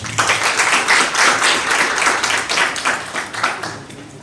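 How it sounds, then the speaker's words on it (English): A room of listeners claps to welcome panelist Chris Diaz at a Kenyan moot court panel discussion, close, fairly loud applause with distinct individual claps, tapering slightly toward the end. "Please welcome Mr. Chris Diaz with a round of applause."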